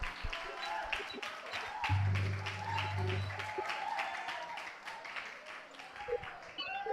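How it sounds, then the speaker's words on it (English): An audience at a school English debate claps for a judge being introduced, a fairly faint, sustained round of applause that runs alongside a speaker's voice. "Let's take a round of applause."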